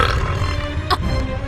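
A cartoon female character gives a short, loud burp close up. It lands as one abrupt belch over a steady background of music.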